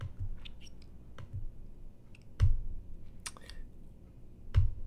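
A computer mouse clicks repeatedly through Next buttons in a Windows server installer, sounding as sharp, close, isolated clicks spaced about a second apart over quiet room noise.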